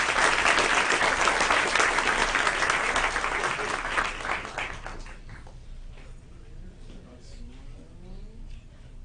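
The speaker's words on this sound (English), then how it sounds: "Let's give them a round of applause." An audience at a regular scheduled meeting applauds students, a loud round of clapping that fades away after about five seconds into quiet.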